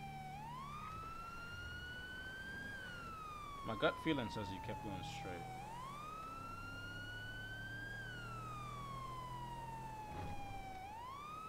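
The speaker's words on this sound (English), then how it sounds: "officers are blasting sirens going code 3" A police car siren in GTA V wails in long rising and falling sweeps, loud and steady throughout, while someone talks briefly over it.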